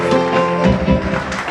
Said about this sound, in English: Clap everywhere.